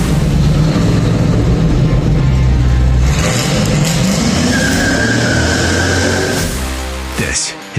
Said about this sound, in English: keep those car sounds rolling on the show. LS swapped Volvo 240 wagon.